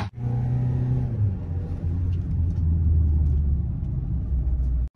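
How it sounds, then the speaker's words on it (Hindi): Mahindra XUV700 automatic launching hard with wheel spin: a steady, loud engine rumble with droning revs held low, sustained for several seconds close to the microphone, with a brief cut near the end. "देखो व्हील स्पिन, देखो कितना क्रेजी व्हील स्पिन करा गाड़ी ने।"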